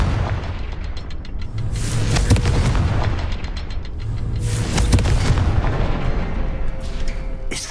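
Loud booming explosions from the Confringo blasting spell in Hogwarts Legacy, two big crackling blasts about three seconds apart, each trailing into rumbling debris and echo, with no talk.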